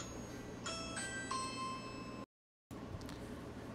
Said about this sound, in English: Why does the UPS man feel the need to ring the doorbell?